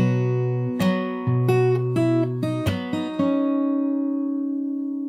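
An acoustic guitar plays a fingerstyle chord part from a song: plucked bass notes and higher melody notes arrive one after another, then a final note rings out and slowly fades, close and solo.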